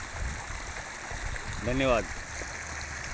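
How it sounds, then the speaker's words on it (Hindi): Nainenath waterfall flowing down from the hills in the rainy season, a steady outdoor rush of running water under a man's brief spoken words. "ये नैनीनाथ का झरना है, ये इन पहाड़ियों से निकल कर आ रहा है"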